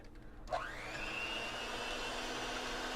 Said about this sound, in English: So I'm just going to take my hand mixer here. As I get started, I just kind of start, on a low setting.